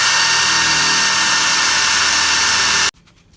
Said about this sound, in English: and then we'll drill the full-size holes for the threaded rod.